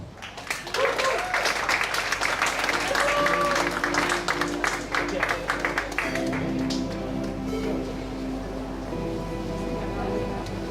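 Poetry slam audience applauding a poet, a dense burst of clapping that swells, then thins out and tails off as a murmur of voices and a held tone take over.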